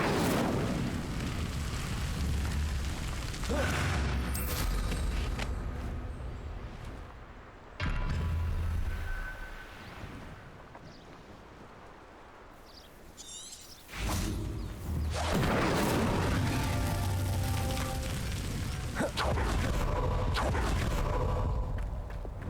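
The Incendio fire spell cast in Hogwarts Legacy: loud, dense roaring bursts and whooshing flame-like rushes, swelling and easing over a sustained game soundscape, with a quieter stretch in the middle before the blast returns.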